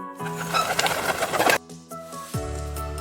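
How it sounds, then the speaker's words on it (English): A pigeon coos in a soft, low, rolling murmur set against gentle background music, with the cooing fairly close and clear. "pigeon"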